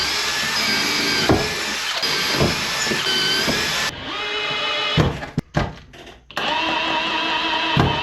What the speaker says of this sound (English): I'm just going to put screws here on the ends